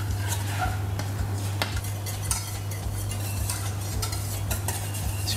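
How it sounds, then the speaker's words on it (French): Breadfruit migan being stirred slowly in a pot with water, with soft scraping and clinks of a utensil against the pot over a faint low hum, no talk. "On remue tranquillement."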